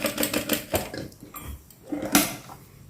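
A sewing machine stitches a hem on a dish towel with quick bursts of rapid mechanical chatter separated by short pauses and light clinks, close and moderately loud.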